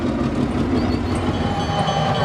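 A Burlington Northern F9 locomotive, an A and B unit pair at the Illinois Railway Museum, gives a loud, steady rumble that continues without a break, with no voices.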